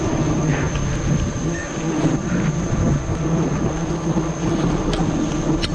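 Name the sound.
swarm of wild bees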